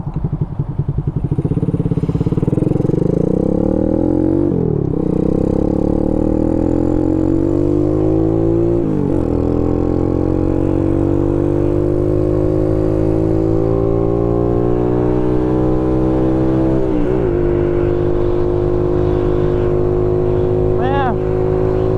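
A Boom Vader 125 Honda Grom clone motorcycle is ridden, its small single-cylinder engine droning loud and close as it climbs steadily through the gears, with brief dips at each shift before revving up again.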